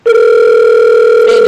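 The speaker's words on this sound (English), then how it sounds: "And it's ringing." A telephone rings on an outgoing call, giving one loud, steady electronic tone that holds for over a second and is heard alone.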